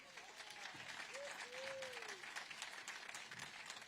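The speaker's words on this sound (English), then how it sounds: "round of applause for these three" A crowd applauds continuously in the distance at a supermotocross press conference, a dense wash of clapping and cheering with faint whistles, steady throughout.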